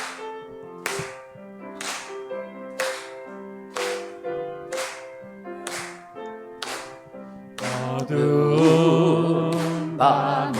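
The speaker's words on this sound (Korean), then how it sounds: "박수 치면서 찬양하십시다." A congregation at a Sunday worship service claps in a steady beat along with a sung praise song, the sharp regular claps ringing over sustained musical tones. Near the end the music swells into a fuller, louder texture.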